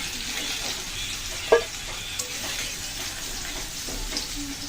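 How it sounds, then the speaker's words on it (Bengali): Vegetable curry fries and sizzles in a pan with steady hiss, a sharp clack of the spoon near the start and a few softer stirring scrapes; no one speaks. "আবার একটু তরকারিটা ভালো করে কষিয়ে নিচ্ছি।"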